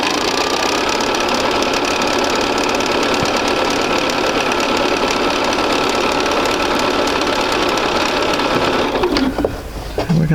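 A sewing machine runs steadily, stitching quilt block seams for a basic sampler quilt, with a loud continuous mechanical whir and rapid needle chatter throughout, stopping briefly near the end.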